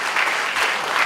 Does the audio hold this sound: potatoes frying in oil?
no